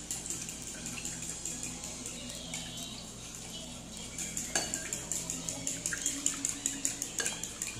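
A utensil stirs a seasoned mixture for breaded milanesas, with black pepper among the seasoning, in a metal bowl or pan. Quiet clinks and scrapes at first, then a steady rhythmic series of sharper scraping strokes.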